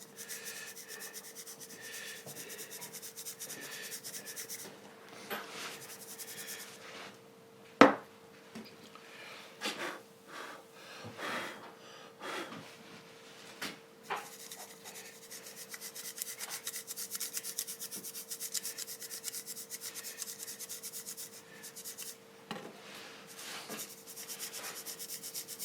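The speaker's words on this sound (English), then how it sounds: "And we get our fine sand. And we sieve it on like that." Fine sand sieved onto the roof of a model railway signal box, a continuous soft gritty rubbing and rasping hiss with a steady hum beneath and one sharp knock partway through.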